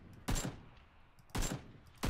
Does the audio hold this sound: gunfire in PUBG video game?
yes